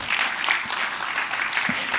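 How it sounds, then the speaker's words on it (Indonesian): Church congregation at an online worship service applauding, a steady wash of many hands clapping at moderate distance, fairly even throughout with no voices standing out. "Tepuk tangan bagi Tuhan"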